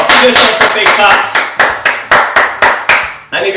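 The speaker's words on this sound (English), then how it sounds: "Give yourself a big clap." Children at a kids' football lesson clap their hands in a steady run of about a dozen sharp, loud claps, close and evenly spaced, with a brief pause near the end.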